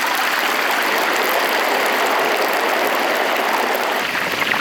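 Water drains loudly from a pot of boiled potatoes during village cooking, a steady, close, rushing gush that pours without a break and eases slightly at the very end.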